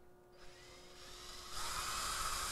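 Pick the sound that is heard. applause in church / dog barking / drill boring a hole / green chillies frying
drill boring a hole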